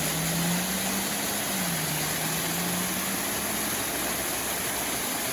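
Fast-flowing brook water at Timbersbrook, Cheshire, rushes in a steady, broadband wash that continues unchanged throughout, with a faint low hum underneath and no voices.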